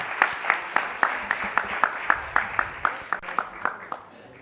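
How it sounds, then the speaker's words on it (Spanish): Lecture audience applauding at the close of an academic talk on democracy, a steady patter of many hands clapping, fairly close and even, tapering off at the end. "Un aplauso."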